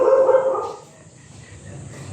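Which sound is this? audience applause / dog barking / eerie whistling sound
dog barking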